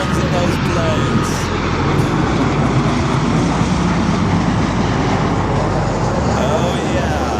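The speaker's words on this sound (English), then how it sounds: "Look at those sounds of those planes." Airplanes on the north runways at Los Angeles International Airport: a loud, continuous jet engine roar with deep rumble fills the whole stretch, steady and close.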